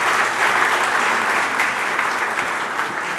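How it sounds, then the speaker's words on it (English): A large audience at the HT Leadership Summit claps in a steady, dense round of applause that stays loud and even throughout. "a few smiles and a big round of applause would be nice"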